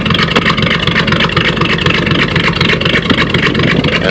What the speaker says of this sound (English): This is what it sounds like with a full exhaust system with no muffler,